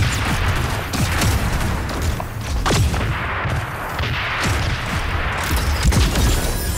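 Gunfire and explosions in the mecha battle game Super Mecha Champions, a dense run of sharp, loud shots and booms going off repeatedly in quick succession.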